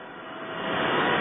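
Pump room machinery at a water park with an ozone water-treatment system gives off a loud, continuous broadband roar that swells slightly over a brief moment, with no voices.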